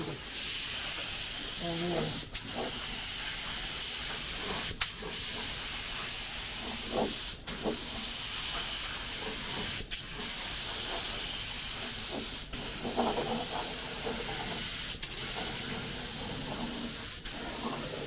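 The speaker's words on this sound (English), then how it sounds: "He's putting on the clear coat now." A spray gun lays clear coat onto Ford F150 truck parts with a continuous loud hiss, broken by short regular pauses every few seconds as the trigger is released, and faint voices in the background.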